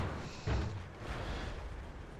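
Tank gun shot striking an E75 tank in World of Tanks: a single muffled, booming thud near the start with a low rumbling tail, set against a steady battle ambience, fairly faint overall.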